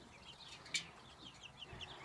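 White Rock chickens in a grassy pen cluck softly, a few short scattered calls over a quiet outdoor background, with no one speaking.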